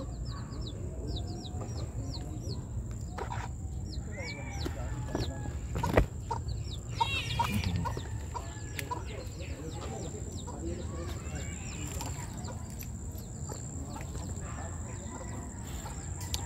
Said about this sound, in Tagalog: maliit lang kasi yung bantam na manok